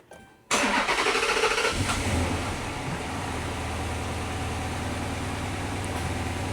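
A car engine cranks briefly and fires up, then settles into a steady, close idle rumble that continues to the end.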